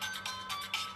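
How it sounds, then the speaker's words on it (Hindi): A mobile phone ringtone plays a repeating electronic melody in short pulsing bursts, steady and moderately loud with no voices over it. "मेरे आदमियों का फोन आया है।"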